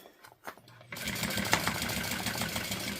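Sewing machine stitching fabric: after a few quiet clicks and handling noises, a fast, continuous mechanical whir of the needle running starts and keeps going steadily, fairly close.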